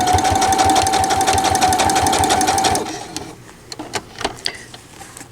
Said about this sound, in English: I'm going to go ahead and sew